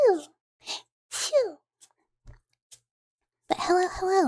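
A voice imitates a mouse's chew sound with several short breathy squeaky "chew" vocalizations separated by pauses, close and soft, followed by a brief bit of speech.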